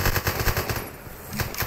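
Rapid machine gun fire rattles in a fast, dense string of shots during a multiplayer heist game, loud and close, with a short lull midway before the burst resumes.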